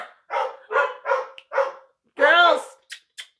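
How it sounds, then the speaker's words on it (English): Happy pet dogs bark at home, a run of four sharp close barks, then a longer howling whine and two quick yips, with a person calling out once between them. "excuse the dogs barking"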